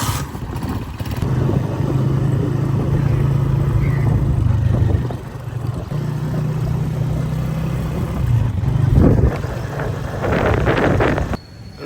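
A motorcycle ridden along a road, its steady low engine drone mixed with wind buffeting the microphone, easing briefly midway before resuming, with no talk.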